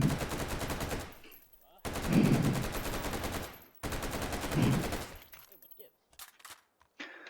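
FN SCAR rifle gunfire in the VR shooting game H3VR, three long rapid bursts of shots separated by short pauses, followed by a few scattered single shots and clicks.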